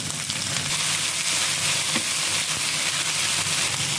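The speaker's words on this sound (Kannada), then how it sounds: "ಸ್ವಲ್ಪ ಈರುಳ್ಳಿ ಫ್ರೈ ಆದಮೇಲೆ ಹೆಚ್ಚಿಟ್ಕೊಂಡಿರೋ ತೊಂಡೆಕಾಯಿ ಹಾಕ್ಕೊಳ್ತಾ ಇದ್ದೀನಿ" Sliced onion and chopped ivy gourd frying in hot oil in a pan for palya, a dense, steady crackling sizzle close by and alone, with a faint stir partway through.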